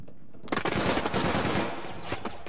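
Rapid automatic gunfire from the online game APB Reloaded, a loud burst of overlapping shots starting abruptly and running continuously with a few sharper cracks near the end, no talk over it.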